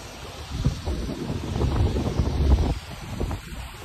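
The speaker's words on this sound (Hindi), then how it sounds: "क्या हवाएं चल रही हैं पहाड़ों के बीच में।" Wind blowing between mountains near Manali, gusty rushing buffets that swell and fade against the microphone over a few seconds, with no talk.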